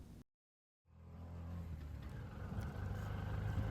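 A tuk-tuk engine heard from on board during a ride in India, with a steady, rumbling motor drone that starts after a brief silence and holds at an even, close level.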